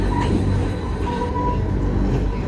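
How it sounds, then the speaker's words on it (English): A steady, loud rumble of a moving train heard from inside the carriage, broad and continuous with no talk. "We are in the train now."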